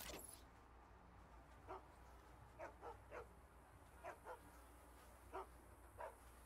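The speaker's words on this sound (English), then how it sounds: "That is a real bark!" A dog barks in short single and paired yaps inside the Saints Row (2022) game, spaced irregularly over a steady low background hum, moderately distant and fairly faint.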